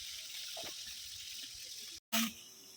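Water drains from freshly split chhana (curdled milk) made for raw mango rosogolla, a steady, faint splashing trickle that briefly cuts out and then returns with a short gush.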